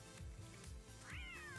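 A cat meows in a video game: one clear, rising-then-falling meow near the end. Low, soft thumping game sounds play underneath it.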